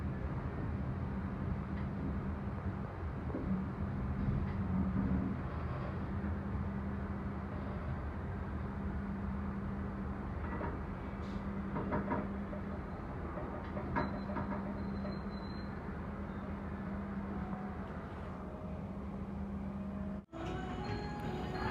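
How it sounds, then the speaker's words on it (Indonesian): A Gajah Wong express train rumbles into Kutowinangun station, Indonesia, at low volume with steady rolling noise and faint clicks, a sustained low hum running throughout before an abrupt cut near the end. "perjalanan kereta api Gajah Wong dengan nomor KA 105 sudah tiba di stasiun Kuto Winangun"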